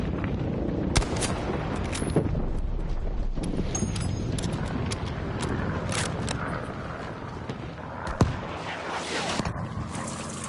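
Battlefield V battle scene as a bridge is destroyed, with continuous dense gunfire and rumbling blasts, punctuated by a few louder sharp bangs.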